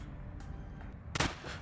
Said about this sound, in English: Wait, was that a gunshot?